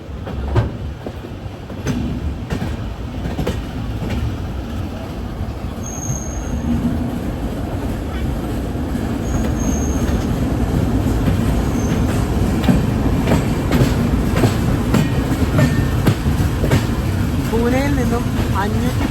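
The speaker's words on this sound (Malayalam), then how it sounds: "ട്രെയിനിപ്പം കുളയം റെയിൽവേ സ്റ്റേഷനിലേക്ക് എത്തിക്കൊണ്ടിരിക്കുകയാണ്" The Poorna Express sleeper-class train rolls into a railway station, a loud sustained rumble of wheels with scattered clicks and a few rising squeals of braking wheels near the end.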